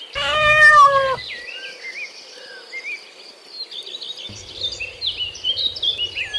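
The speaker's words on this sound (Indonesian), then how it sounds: "Ini kucing." A cat gives one clear, close meow at the start, then fainter high chirping sounds continue over a quiet background.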